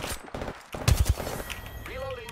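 Bolt gunfire in a video game: a quick burst of three or four sharp gunshots in the middle, fairly faint, with game effects around them and a voice speaking briefly.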